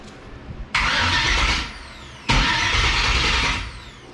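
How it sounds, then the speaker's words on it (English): Engine cranking on a car with a twin-turbo LS3 engine swap, two separate starter bursts of about a second each, fairly loud and close in a shop with no talking. "the fuel pump kicked on, but it won't stay on"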